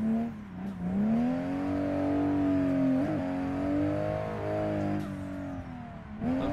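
A drift car's engine revs hard and steadily in a drifting video game, its droning note rising and dipping as the clutch is kicked, loud and close with no talk.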